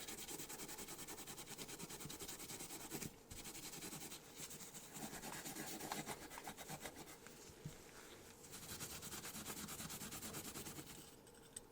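A Scotch-Brite pad scuffs a 1:32 scale Bronco model car body before painting, a faint, steady scratchy rubbing with rapid back-and-forth strokes and no voices.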